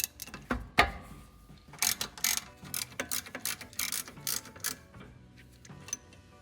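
A wrench breaks loose the lower brake caliper bolt on a 1993-97 Toyota 80-Series Land Cruiser, with close, irregular ratcheting clicks and metallic clanks over several seconds.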